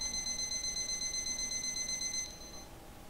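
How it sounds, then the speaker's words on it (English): An alarm clock in the video game Lullaby For an Electric Toaster rings with a steady, bright electronic trill for about two seconds, then cuts off, leaving a faint hum with no voices. "Oh no, that's the alarm clock."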